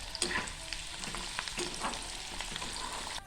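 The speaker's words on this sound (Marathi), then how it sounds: "हिला पण आपण तशीच फ्राय करून घेणार आहोत" Chana dal deep-frying in hot oil, with a continuous close, bright sizzle and a few stirring clicks scattered through it.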